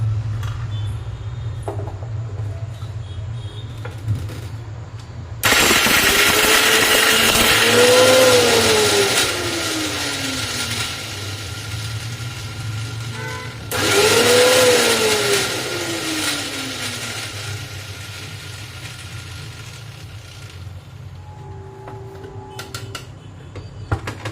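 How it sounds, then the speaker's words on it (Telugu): An electric mixer grinder with a slightly loose blade whirs loudly in two separate bursts, each a few seconds long, with a low hum continuing between and after them. "మిక్సీ పెట్టేస్తున్నాం ముందు వేసుకుంటున్నాను మిక్సీ"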